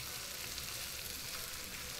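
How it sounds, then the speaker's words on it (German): Food deep-frying in the Cooking Simulator video game, a dense, even hiss of bubbling oil heard alone for a couple of seconds without variation. "Jetzt frittiert er."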